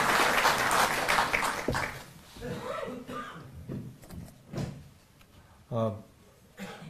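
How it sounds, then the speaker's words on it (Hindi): Applause from an audience greeting the divisional commissioner at a public ceremony, a broad dense burst in the opening seconds that fades and gives way to scattered bumps and someone speaking. "एक बार जोरदार तालियों से आप सर का अभिनंदन।"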